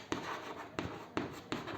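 Pen or chalk writing numbers by hand during a maths lesson on proportion word problems, heard as a few soft scratching strokes in a steady rhythm, close and alone.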